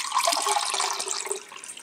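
About a cup of water pours steadily into a container holding roughly half a cup of cashews to soak them, a close, continuous splashing rush with no voices.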